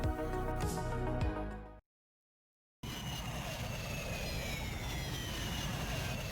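Roaring jet fighter engine from SEGA's 1987 arcade combat game After Burner, a loud steady rushing drone that cuts in after a short musical phrase and brief silence, with a tone sweeping across it.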